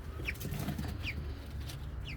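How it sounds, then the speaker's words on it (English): Soft, high peeping chirps repeat every second or so, incubator-hatched young chicks calling faintly over a low background hum. "These are all the little birds that I hatched in my incubator with the dry hatch method."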